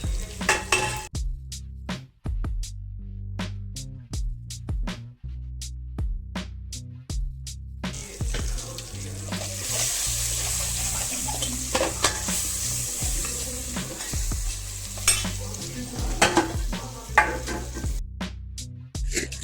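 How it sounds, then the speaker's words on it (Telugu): Chopped amla (Indian gooseberry) being stirred in a hot pan for pulihora, steady oily sizzling with repeated sharp clinks of a spoon against the pan throughout, close and continuous. "ఉసిరికాయని వేస్తాం. వేసి బాగా కలుపుకోవాలి, కలర్ చేంజ్ అయ్యేలాగా."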